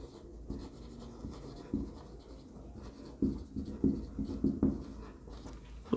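Scratchy strokes of writing on a board in a classroom biology lecture on neurons come in short, uneven bursts, close and moderately loud over a faint room hum, with no talk.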